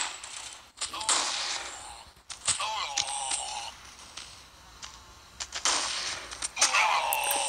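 Sniper rifle fire in an online shooter game: several sharp, separate cracks scattered among clicks and game effects, with a bright ringing after some shots and no speech over them.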